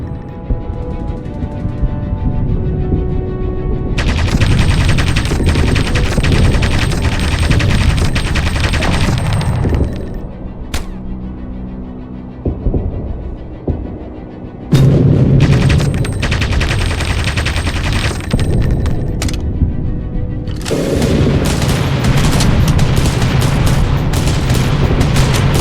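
Aircraft guns in an aerial combat video game fire in long loud bursts of rapid gunfire, broken by brief pauses, with almost no talking.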